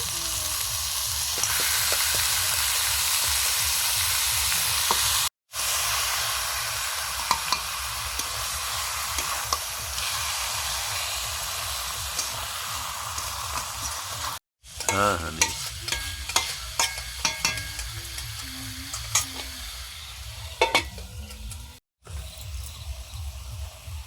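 Pieces of mutton fry in a hot pan while being stirred, giving a continuous loud sizzle with frequent scraping and clinking of the spoon, cut by a few brief silent breaks.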